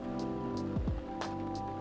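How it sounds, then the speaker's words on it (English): Soft steady rain patters in a café scene from the video game Coffee Talk, a constant gentle wash of drops under low music with a couple of descending tonal sweeps. "Plus, there's the rain."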